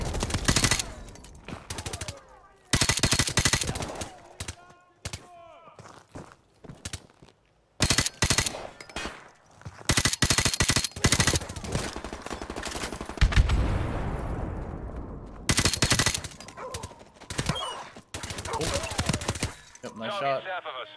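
Gunfire in the video game Call of Duty Modern Warfare Remastered: loud bursts of automatic fire and single shots come in repeated clusters with short gaps between them, while players talk over the action.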